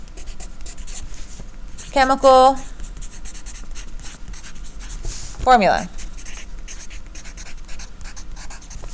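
Pen scratching across paper while notes are taken, a faint continuous scribble running under a teacher's speech, which comes in two short bursts.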